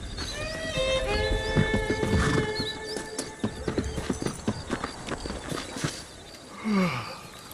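A horse in the Red Dead Redemption video game gives a long, clear whinny, then its hooves clip-clop in a steady close rhythm, ending with a brief snort, with no talk.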